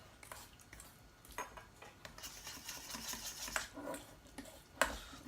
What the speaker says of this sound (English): Now with my lovely fork, I whisk, whisk, whisk, whisk, whisk.